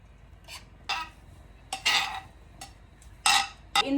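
A spoon scrapes and clinks against a pot while biryani masala is stirred, giving a few sharp metallic strokes spaced irregularly over a quiet background, close and without talk.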